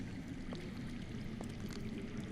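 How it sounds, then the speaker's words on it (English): Water flows steadily underground in the video game Game of Thrones: A Telltale Series, a soft, continuous rushing pour with a faint drip or two, low and muffled throughout. "That's water. I hear water. From underground."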